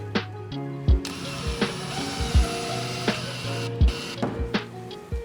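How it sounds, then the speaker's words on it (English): Screw driven into a wall stud to mount a floating mantle, a power driver whirring in short bursts with sharp clicks and thuds between them, close and fairly loud. "I'll get 1 screw installed."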